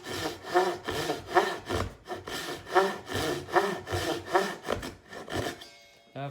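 A hand saw cuts through a wooden board in steady back-and-forth strokes, about a dozen rasping pulls at an even rhythm, close and clear, ending in a short pause with a brief scrape.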